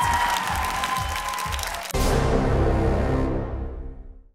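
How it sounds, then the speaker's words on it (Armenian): Loud audience applause fills a television talent-show hall as a contestant is greeted, a dense steady wash of clapping that swells after a moment and then tapers away. "Դիմավորում ենք բարձր ծափարությունների ներքո։"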